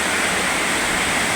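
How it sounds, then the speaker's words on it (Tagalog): Heavy night rain pours down in Dasmariñas, Cavite, a loud, dense, unbroken hiss of falling water with no gaps or voices. "Grabe, buhos ng ulang ngayon. Pakalakas."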